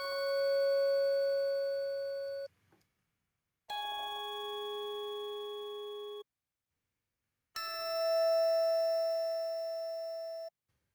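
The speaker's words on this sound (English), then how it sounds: "I added different bells, and I set it to sequence step, and that sounds like this" A sequence of three sustained synthetic bell stinger tones built in the Wwise audio engine, each ringing for about two to three seconds with a gap between, clean and close.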